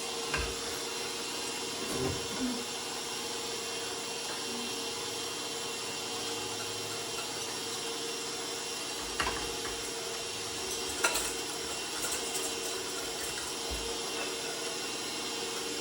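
Cupcake batter being mixed with milk by an electric mixer on slow speed, a steady whirring drone with faint clinks against the bowl and a couple of louder knocks.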